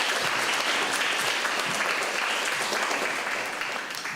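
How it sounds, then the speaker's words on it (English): Steady, dense applause from a large crowd, sustained at an even level and tapering slightly at the very end. "give a big round of applause to all of the contestants today first"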